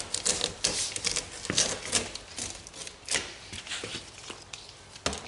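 An old, worn-thin rubber door seal being pulled out of its door slot, giving a close run of dry crackling, ripping and scraping bursts in an irregular rhythm with no talk.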